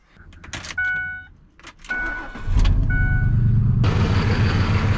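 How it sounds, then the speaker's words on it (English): A Ford F150 with the 5.4 3V engine and a failed cam phaser cranks and starts after a few chimes and beeps, then settles into a loud, rough, uneven idle close by. "That sounds to me like a failed cam phaser."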